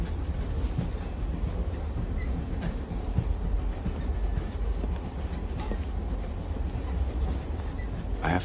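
Steady rumble and rattle of a train rolling along rails, heard from inside a jiggling passenger car, with a dense continuous clatter and faint knocks throughout and no talk.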